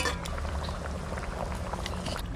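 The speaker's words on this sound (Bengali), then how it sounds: "জলটা খুব সুন্দর জাল উঠে গেছে" Water at a rolling boil in a pot for a fish curry with large sea pomfret from Odisha, a steady close bubbling and burbling throughout, with no talk over it.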